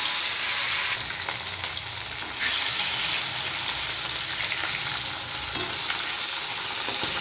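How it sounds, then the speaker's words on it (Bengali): Fish pieces slide one by one into hot oil and fry with a loud, dense, continuous sizzle, the crackle surging as each piece goes in. "এদিকে মাছ ফ্রাই করার জন্য তেল বসিয়ে দিয়েছি, তেল গরম হয়ে গেছে। এবার আমি মাছগুলো একটা একটা করে ছেড়ে দেব।"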